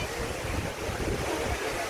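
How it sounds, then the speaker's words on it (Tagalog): Steady wind rushes and buffets across the microphone near a cafe in Seoul, South Korea, a continuous breezy roar with low rumbling gusts and no voices. "Ganda ng simoy ng hangin dito guys."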